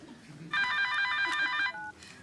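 A telephone rings at home late at night, giving a bright electronic ring in one sustained burst and then a short trailing tone, clear and moderately loud against a quiet room.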